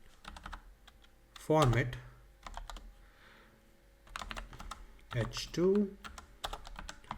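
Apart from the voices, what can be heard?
typing code on a computer keyboard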